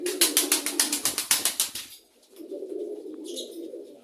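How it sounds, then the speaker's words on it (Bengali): Pigeons kept in a room make a quick run of rhythmic flutters and taps at first, then settle into a steady, low, close cooing. "দেখেন আজকে কবুতরগুলোকে একটু দেখাই"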